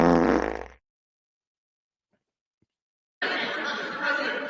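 A fart sound effect blares loudly at the start, then cuts off into silence before laughter and chatter burst in.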